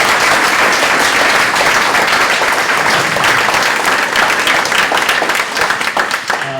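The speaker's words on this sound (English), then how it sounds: "So let's give everyone a round of applause for that." A crowd claps loudly for finalists at a business planning competition awards show, a thick continuous roar of hands that holds strong, then thins slightly near the end.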